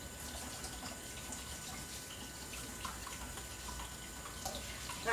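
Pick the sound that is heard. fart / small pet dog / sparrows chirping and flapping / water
water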